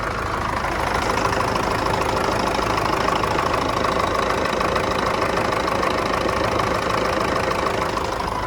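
A tractor's D-243 diesel engine idles steadily and close by, with a constant knocking chug and broadband rumble running unchanged throughout.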